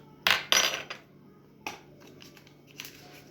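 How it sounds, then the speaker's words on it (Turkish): Dry ingredients, salt and baking powder, are mixed into flour in a bowl, heard as a few sharp clinks and scrapes of a utensil against the bowl, with quiet pauses between them. "İki öncə quru ərzaqları una qarışdırırıq"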